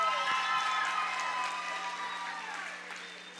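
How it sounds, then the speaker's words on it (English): An audience applauds at a middle school talent show, a dense patter of clapping that gradually fades, heard in a large room. "let's give Carolyn another round of applause"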